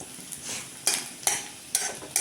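Coconut oil heating in a pan for Kerala fish curry gives a faint, steady crackle, then three or four sharp bursts of spluttering and stirring scrapes arriving about every half second, close by, with no voices.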